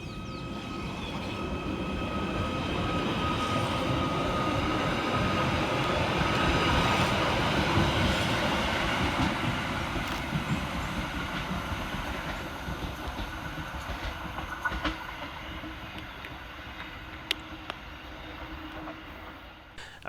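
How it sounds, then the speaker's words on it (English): A Merseyrail class 777 electric train departs Maghull North station, a steady rising and fading rumble with rail clatter and a high electric whine, moderately close and heard alone without talk. "Next out to depart is 777-039, working the 10:34 Merseyrail service from Hunts Cross through to Ormskirk."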